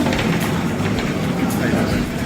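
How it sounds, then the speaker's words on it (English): A train approaching an Amtrak station, heard as a steady broadband rumble with faint rail clatter that stays level throughout, with people talking nearby over it. "Oh, I hear the train coming."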